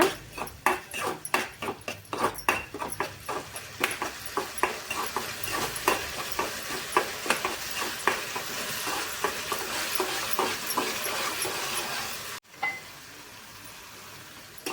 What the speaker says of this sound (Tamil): நாட்டு சக்கரை சேர்த்துட்டு நல்லா ஒரு நிமிஷத்துக்கு கலந்துக்கோங்க